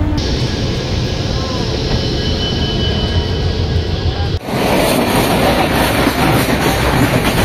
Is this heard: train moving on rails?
yes